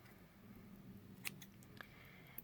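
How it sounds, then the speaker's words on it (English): Scissors snipping through the yarn loops of a crochet tassel, a few quiet crisp cuts at irregular moments over a soft background hush. "And now just cut the loops."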